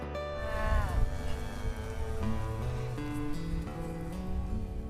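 Cattle on a spring ranch in Oakley, Idaho moo in long, drawn-out calls, several animals overlapping at close to mid distance with steady barnyard noise underneath.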